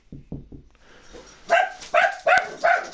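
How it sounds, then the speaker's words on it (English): A dog barks four times, close and loud, indoors during a baseball video game session, following a few softer low yips or huffs at the start. "Sorry, I forgot my dog was in here."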